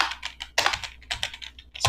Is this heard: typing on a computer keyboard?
yes